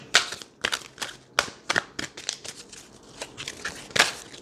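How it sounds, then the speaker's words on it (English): Tarot cards shuffled by hand in a series of quick, crisp riffling bursts and snaps, close and fairly loud, some clustered rapidly and others spaced out, with no talk over them. "these cards have all been really shuffled"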